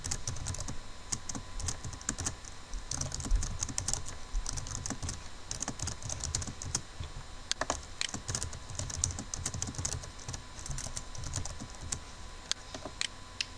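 Steady typing on a computer keyboard while writing HTML code, a continuous patter of close, quick key clicks with occasional louder strikes and no talk.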